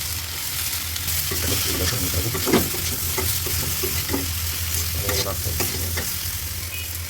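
Chopped onion, ginger, garlic and chilli fry in a pan with cumin and garam masala, a dense steady sizzle under repeated scraping strokes of a spatula stirring, close and loud, with no voices.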